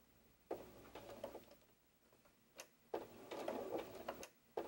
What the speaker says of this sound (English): Now that our star is in place, we're going to stitch it.